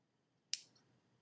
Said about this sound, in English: I'm going to cut my second vertical slit.